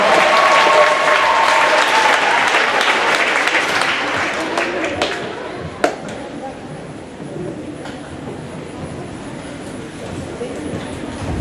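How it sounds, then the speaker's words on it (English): A spelling bee audience claps steadily and loudly throughout, a dense sustained applause with a sharp isolated knock partway through, and some voices mixed in beneath. "Let's give these guys a nice round of applause as they get ready for the next round."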